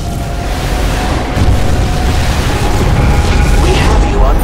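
A deep, rumbling explosion in StarCraft 2 as a settlement is fired on, a loud low boom that swells around the midpoint and rolls on steadily to the end with no talk.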